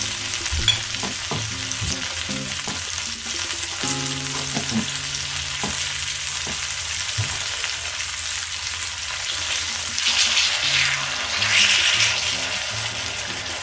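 Chicken frying in a pan on a small induction burner, a close, steady sizzle with regular knocks and scrapes from stirring that swells in loudness toward the end.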